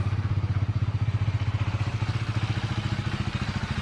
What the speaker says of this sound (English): Look at him riding his new motorcycle